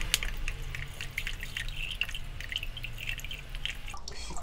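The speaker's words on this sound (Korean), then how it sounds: "이걸 또 이제 컵에다 부어서 해야지" Strong infusing liquor is poured into a cup to make a pickled chili brine, giving a steady close-up liquid trickle with scattered drips against a quiet kitchen background.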